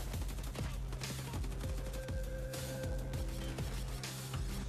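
Sustained bursts of automatic gunfire from other players in an online shooter game, repeated rapid volleys with sharp transients at a steady moderate distance, with a faint tonal whine in the middle.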